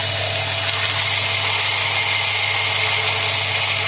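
A powerful homemade 1.5 kW belt grinder at 1350 rpm runs steadily during blade work, giving a loud continuous motor hum with a bright, hissing belt whine that stays constant throughout, with no talk.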